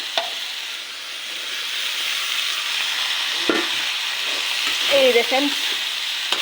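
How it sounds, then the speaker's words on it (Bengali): Taro stolons, dried fish and jackfruit seeds fry in a pan with a steady close sizzle. Occasional utensil clinks and stirring scrapes break the sizzle, and a voice speaks briefly near the end. "কচুরলতি কাঁঠালের বিচি দিয়ে দিচ্ছি।"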